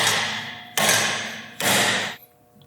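A hammer strikes a metal template on a Toyota Corolla AE86 gymkhana build three times, each whack loud and close, with a harsh ringing tail that cuts off after the last blow.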